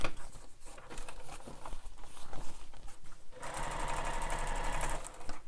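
Sewing machine stitching a bag seam, a steady mechanical whir and patter that picks up to a faster, louder run near the end.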